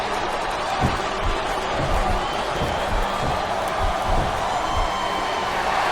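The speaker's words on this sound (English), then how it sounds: "I love hearing the crowd come alive" A wrestling arena crowd in WWE Smackdown vs RAW 2007 cheers in a steady, dense roar that holds evenly throughout, with faint thumps from the ring and a little commentary talk underneath.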